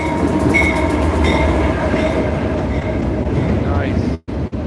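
A train engine rolls past very close by, a loud, continuous rumble and wheel clatter with a faint metallic squeal riding on top, cut off abruptly at the end.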